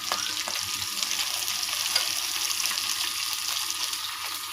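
A spoonful of ghee sizzling in a pan while potato biryani is cooked, giving a steady, even frying hiss throughout with faint scrapes.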